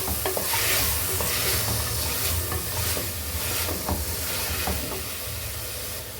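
Pumpkin and tomato sauté in a hot pan for a pumpkin kootu, sizzling steadily while a spoon stirs them with repeated scraping strokes. No one speaks over the close, continuous frying.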